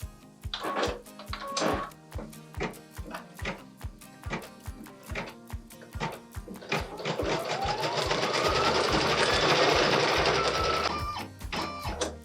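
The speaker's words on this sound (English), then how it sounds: "we're gonna let the machine stitch the tack down line" An embroidery machine sews a tack-down line on fabric, its needle tapping in quick regular pulses before settling into a steady whirring run, close by and moderately loud with no talk.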